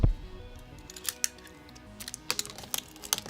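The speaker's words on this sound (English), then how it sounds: "we start to cut this thing out of the box" A blade slices through the cardboard box of a Bambu Lab X1 Carbon 3D printer in a series of short, crisp cuts and scrapes, heard close by with no talking.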